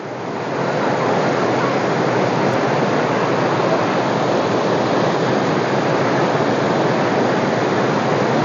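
The Siddharkund waterfall at Kollengode roars with a loud, constant rush of falling water, a dense wall of noise that swells in during the first second and then holds steady.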